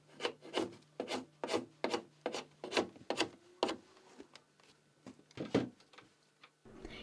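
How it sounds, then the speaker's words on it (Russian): A craftsman sands the runners of handmade wooden sled, producing a steady rhythm of rough rasping strokes back and forth, close and distinct, about a dozen passes with brief pauses and no voices. "мастер еще тщательно шлифует полозья"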